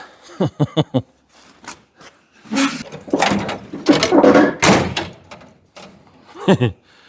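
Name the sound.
car door being opened and closed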